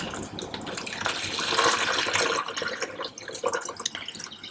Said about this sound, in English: we're gonna pour the brine shrimp and the water into this tub so we can keep the salt water